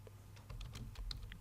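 Computer keyboard typing while entering text into a table in MS Word 2016: a quick run of light, irregular key clicks over a steady low hum, close and moderately quiet.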